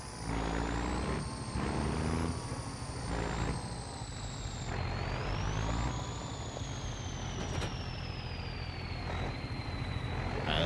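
A 6.4-liter Hemi pickup truck in Farming Simulator idles in a steady loud drone with a high whine on top, while faint repeated reversing beeps may sit under the engine.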